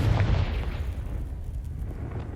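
Confringo spell explosion in Hogwarts Legacy, a heavy low boom at the start that rolls off into a rumbling decay, fairly loud and alone.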